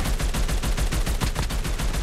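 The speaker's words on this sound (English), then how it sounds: "Keep shooting. Keep some suppressing fire." Rapid automatic gunfire in a video game, a dense fast run of sharp repeated shots, loud and close without pause.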